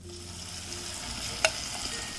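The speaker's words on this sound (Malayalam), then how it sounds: "ഇതുപോലെ സൗണ്ട് കേൾക്കുന്നത് വരെ നമ്മൾ ഫ്രൈ ചെയ്തെടുക്കണം" Yam pieces deep-fry in hot oil with a steady close bubbling sizzle, broken once by a sharp metallic clink near the middle.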